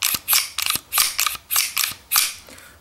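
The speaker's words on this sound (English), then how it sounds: "I'm not sure if that's the spring and the guide or the recoil buffer making that additional sound, that dragging." A Beretta 92FS pistol fitted with Wilson Combat parts has its slide racked repeatedly, seven close mechanical sliding strokes, each ending in a metallic clack with a faint dragging scrape.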